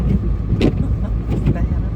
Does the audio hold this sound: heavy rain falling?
no